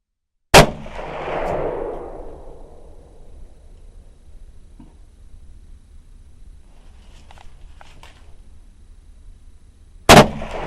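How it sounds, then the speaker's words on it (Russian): A single sharp shot from an SVT-40 rifle cracks and echoes away, followed by quiet with faint clicks, then a second loud shot near the end. "Рядовой Дюсеев стрельбу закончил."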